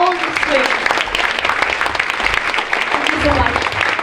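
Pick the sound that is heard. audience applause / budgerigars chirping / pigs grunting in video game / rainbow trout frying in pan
audience applause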